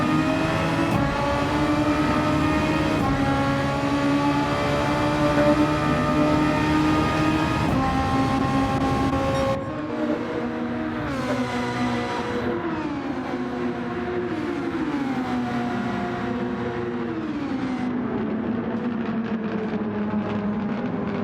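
Super Formula race car at Suzuka in Gran Turismo 7, its engine wailing at high pitch, then dropping through several quick downshifts and climbing again through the corners, loud and continuous with no talking.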